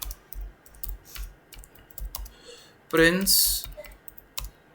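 Rapid plastic keystrokes on a computer keyboard as code comments are typed, steady clicking with brief pauses, close and clear, with someone talking over parts of it and a louder burst of sound near the end.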